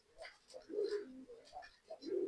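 Pigeons kept by a fancier coo in a few soft, rounded phrases, fairly close and moderately loud, with short pauses between calls.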